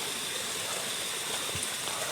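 A river widened by erosion flows with a steady, even rushing of water that fills the scene without a break.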